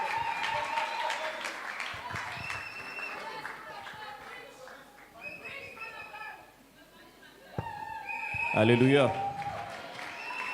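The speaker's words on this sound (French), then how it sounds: "Please can we clap even hard?" Congregation clapping and cheering at a gospel thanksgiving service, a crowd applauding under a loud voice calling out, with chatter and a shout that rises near the end.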